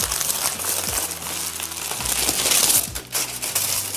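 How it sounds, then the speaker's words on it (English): Wrapping is pulled off a fruit cake in dense, continuous crinkling and rustling close by, with a low steady tone underneath. "First thing you need to do is unwrap your fruit cake."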